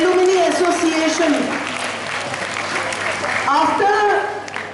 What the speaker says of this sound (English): So I think you should at least clap for our fathers.